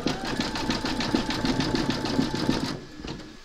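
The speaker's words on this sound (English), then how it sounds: "we're going to pop him into our machine and stitch round number 8, and that's going to zigzag along here" A Brother embroidery machine stitches a zigzag round on a large whimsical Santa design, its rapid, even needle strokes chattering steadily and close up before stopping abruptly near the end.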